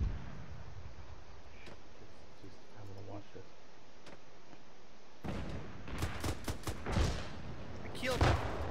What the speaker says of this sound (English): He got hit by shrapnel from the explosion.